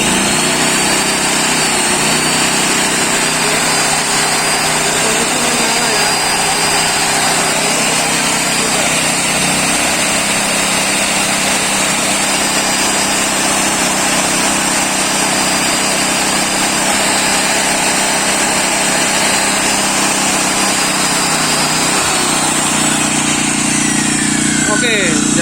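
Krisbow Silent 2000 W gasoline generator running steadily under load, a constant droning engine hum with a high whine that stays loud and unchanged for the whole stretch, with someone talking now and then.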